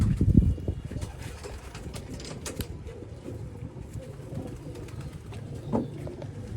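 Kuwaiti teddy pigeons coo softly in a loft, a low, continuous murmur with faint clicks and creaks and a slightly louder burst near the start.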